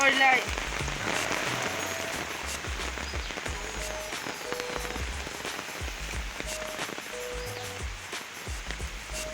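Steady rain from Cyclone Remal pattering on a surface in Karimganj, dense and close, with scattered heavier drops and faint voices underneath.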